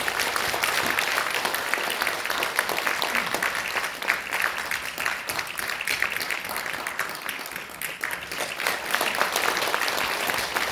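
Sustained applause from a large audience at a Korean political party launch ceremony, dense and steady clapping throughout without pause.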